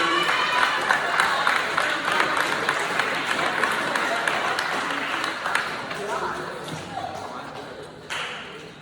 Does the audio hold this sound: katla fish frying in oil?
no